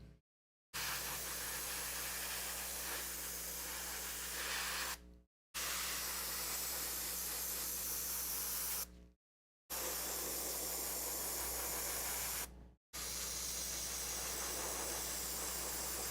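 An airbrush spraying paint sends out a steady close hiss in long bursts of about four seconds, each cut off by brief silences.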